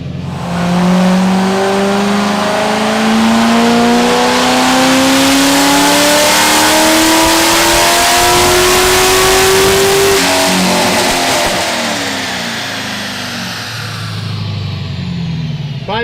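A supercharged LS3 Corvette engine with a V3T blower and 3.8 pulley roars loudly on a dyno, its pitch climbing steadily through a long pull before dropping off as the throttle closes and the engine winds down.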